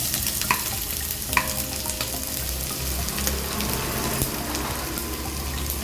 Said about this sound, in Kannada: ಎಣ್ಣೆ ಕಾದ್ಮೇಲೆ ಸಣ್ಣದಾಗಿ ಹೆಚ್ಚಿದಂಥ ಬೆಳ್ಳುಳ್ಳಿ, ಮತ್ತು ಶುಂಠಿನ ಸೇರಿಸ್ತಾ ಇದ್ದೀನಿ.